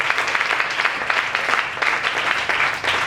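A church congregation claps loudly and rhythmically in praise, the dense clatter of hands staying steady for the whole stretch with no voices over it.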